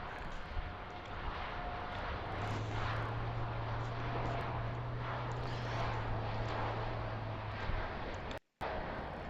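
A Boeing 787-9 Dreamliner bound for Denver takes off from Heathrow, giving a steady, distant roar of jet engine noise with a faint low drone throughout, then a brief drop to silence near the end.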